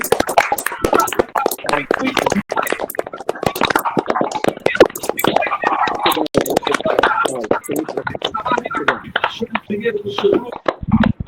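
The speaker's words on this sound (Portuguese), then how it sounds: "encerrar com uma salva de palmas ao nosso Criador" Participants of an online meeting clap together, a flurry of sharp, uneven hand claps from several people, some close and loud, others thinner, overlapping with voices.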